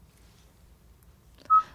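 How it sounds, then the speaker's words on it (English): A phone call starts through Apple CarPlay with a short, clear dialing tone that sounds once near the end, after near silence. "Touch the contact name or number to initiate a call."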